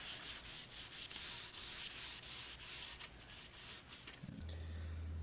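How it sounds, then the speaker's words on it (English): A cloth is rubbed steadily back and forth across a lightly sanded wooden coat rack, a soft, continuous wiping rasp with rhythmic strokes, close and alone, before a low hum takes over near the end. "now we're just going to wipe off any dust that we have"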